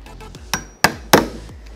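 A hammer drives a chisel into wood while hand-cutting a mortise for a garden gate: three sharp, loud knocks, the last two hardest, with softer taps around them, close up.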